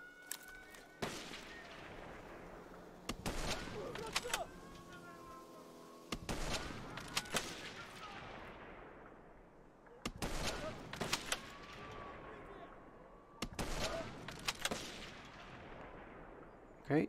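Gunfire from the video game Call of Duty Black Ops Cold War comes in sharp, loud bursts every few seconds, each shot cracking and then echoing out, with quieter game ambience and brief tonal sounds between the volleys.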